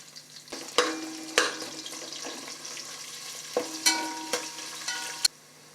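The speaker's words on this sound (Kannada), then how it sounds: "ಒಂದು ಗೆಡ್ಡೆ ಈರುಳ್ಳಿ ಉದ್ದಾಗ ಹಚ್ಕೊಂಡಿದ್ದೀನಿ ಅದನ್ನು ಹಾಕೋತಾ ಇದ್ದೀನಿ" Sliced onion and whole spices, cloves among them, frying in hot oil in a pan for vegetable pulao, a steady close sizzle broken by several sharp clatters and stirring knocks, with no talking.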